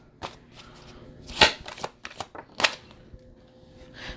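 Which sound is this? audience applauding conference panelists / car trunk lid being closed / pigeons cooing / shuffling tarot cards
shuffling tarot cards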